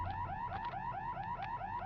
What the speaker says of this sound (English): Somebody really needs to shut off that alarm.